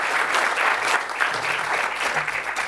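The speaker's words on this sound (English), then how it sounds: "A round of applause for our successful pitchers." A pitch competition audience claps for the successful pitchers. Dense, steady applause fills the room at an even, fairly loud level, with a faint voice underneath.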